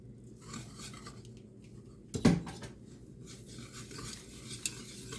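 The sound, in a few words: mixing brown sugar into melted butter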